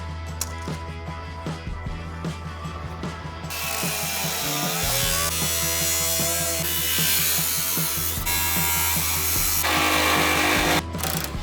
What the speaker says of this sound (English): Let's get the Sawzall grinder and all the cut off stuff and make a rock crawler.